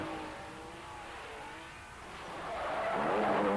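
A Triumph Dolomite rally car from a 1970s rally skids on loose ground with its engine racing, a continuous rough roar and tire noise that swells louder toward the end, fairly distant and unaccompanied by voices.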